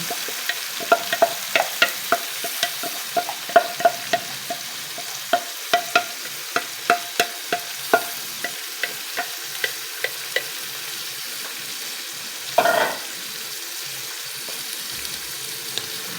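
Pechay (bok choy) sizzles in a pan while a spatula stirs it in a regular run of sharp scraping clicks, with one louder clatter near the end and no talk.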